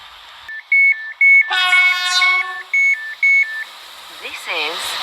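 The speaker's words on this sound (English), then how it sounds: "This train is formed of 4 coaches." An SCR train at Faraday Road station, with repeated two-tone electronic door beeps over a loud, nearby whining hum of the train and a brief hiss at the end.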